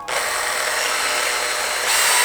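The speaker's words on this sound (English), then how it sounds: "Need to drill this real quick." A power drill with a 6.5 mm bit whirs loudly and continuously through a 3D-printed part, a steady high-pitched grinding that swells slightly near the end.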